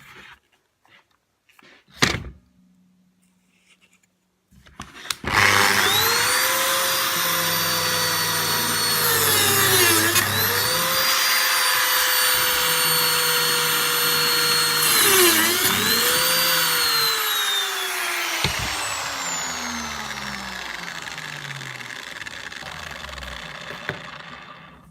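A Lamello Clamex plate joiner milling holes into wood, a loud sustained whining cut of about twenty seconds with two brief dips partway through, then spinning down, with a sharp knock near the start.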